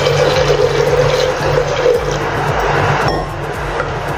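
Water is poured from a glass into a cooking pot holding dal, spinach, ginger and green chillies, a steady broad splashing pour that stops abruptly near the end, leaving a quieter residual trickle.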